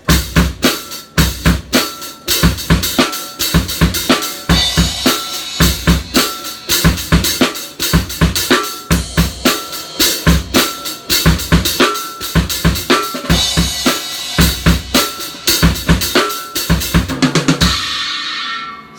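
A full drum kit plays a steady groove in four-four time with off-beat sixteenth-note displacement accents, crisp cymbals over punchy kick and snare, continuing without pause until a brief ring-out at the end.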